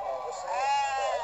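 A single long, close sheep bleat with a wavering tone rises out of a busy livestock market, Pasar Jonggol, where sheep and goats are sold for slaughter.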